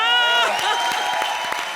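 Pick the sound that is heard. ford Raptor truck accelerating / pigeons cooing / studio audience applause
studio audience applause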